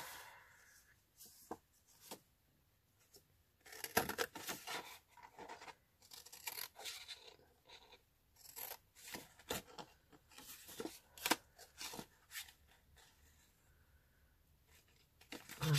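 Slightly stiff scissors cut clothing tags for journal tags in a series of sparse, irregular close snips, with light paper rustling between them in a quiet room.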